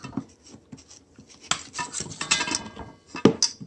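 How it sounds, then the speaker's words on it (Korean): Salt is stirred into a slime mixture in a bowl, giving soft scraping and wet swishing with a few sharper clinks of a utensil against the bowl, close and fairly quiet with no talk. "이 소금 다 녹을 때까지 섞어야 돼"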